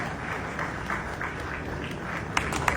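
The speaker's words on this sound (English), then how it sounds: "Please, a round of applause for that anointed boy." Audience applause after a young man is introduced at an event, a steady wash of clapping throughout with a few sharper claps near the end.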